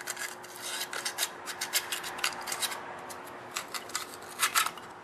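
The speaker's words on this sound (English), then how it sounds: "Now I'm going to sand it lightly with a 400 grit sandpaper." An outboard motor fuel pump mounting surface is lightly sanded with 400 grit sandpaper, giving quiet, close, rapid rasping strokes in short irregular bursts over a faint steady hum.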